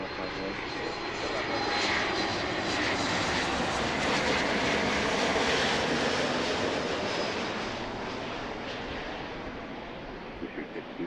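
Steady roaring jet engines of an airliner taking off from runway 27 left at Philadelphia, a broad sustained rumble heard from a distance at Fort Mifflin that slowly swells and then eases, with no talking over it.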